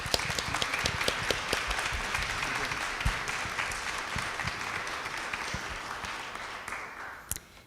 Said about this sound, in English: Please give our panelists and moderator a round of applause.